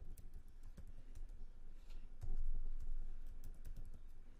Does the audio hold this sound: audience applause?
no